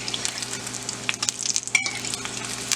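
Cheese-stuffed corn popper tots fry in hot oil with a busy, steady sizzle and scattered crackles and pops, close and fairly loud, no talking.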